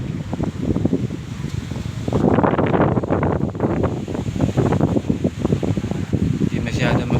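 Strong Typhoon Egay wind and heavy rain lash a pier in Bacolod City, roaring in loud broadband gusts that surge and fade unevenly throughout.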